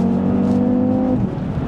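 An Audi TT RS with its 2.5-litre five-cylinder engine revs hard and close, a loud, steady, buzzy drone that holds its pitch before easing off slightly at the end, with no talking.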